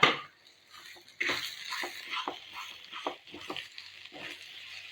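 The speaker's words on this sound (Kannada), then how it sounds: "1 ಸ್ಪೂನ್ ಜೀರಿಗೆ, ಒಂದು 3 ಕಾಯಿ ಇದು ಕೆಂಪು ಮೆಣಸು, ಚಕ್ಕೆ, ಲವಂಗ, ಹೂವು, ಸಾಸಿವೆ ಮತ್ತು ಬ್ಲ್ಯಾಕ್ ಪೆಪ್ಪರ್ ಇಷ್ಟನ್ನು ಹಾಕಿ ಸರಿಯಾಗಿ ಹುರಿಯುವ" Cumin, red chillies, cinnamon, cloves, mustard seeds and black pepper roast dry in a pan, stirred with repeated scraping strokes and light crackling, close and fairly quiet.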